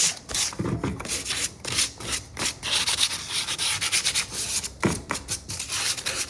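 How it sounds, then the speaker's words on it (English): Sandpaper of 220 grit rubs by hand over chipping milk paint on a wooden thrifted decor piece, a close, rhythmic series of scratchy back-and-forth strokes with brief pauses between passes. "220 sandpaper, and I am removing the milk paint that is chipping off, and it's coming out good."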